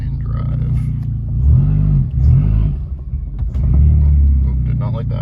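A Nissan with a MAF converted to speed density pulls away and revs unevenly, the engine rising and falling in a few surges and stumbling under load, with someone talking over it up close.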